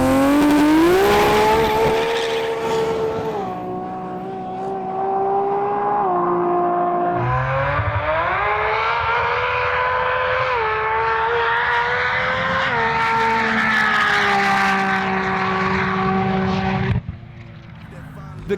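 Nissan GT-R drag car running down a runway at full power, its loud engine rising through gears with sharp shifts and tire squeal as it accelerates hard close by, then cutting off near the end.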